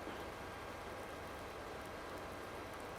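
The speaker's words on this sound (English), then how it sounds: "Rain's almost done now already, so just a little passing shower here with some thunder" Rain shower falling in the American Life farming video game, a steady dense hiss of rainfall at an even level throughout, with no voices.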